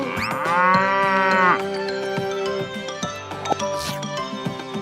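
A cow moos once, loud and close, amid a children's farm song, with other tonal sounds and clinks following.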